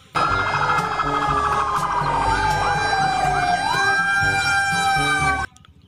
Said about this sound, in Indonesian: Ini ada truk pemadam.